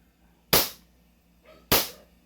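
A CO2-powered 2011-style airsoft pistol fires two sharp, close cracks about a second apart, each decaying quickly into a quiet room.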